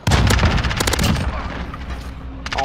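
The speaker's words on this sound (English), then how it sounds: "shotgun with incendiary bullets" In a video game, a shotgun loaded with incendiary rounds fires in a dense, loud burst of rapid blasts and crackling impacts, easing off and then picking up again briefly at the end.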